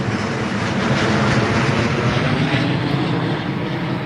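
A British Airways jet taking off from Heathrow Airport, a steady loud broadband engine roar that holds throughout without a break.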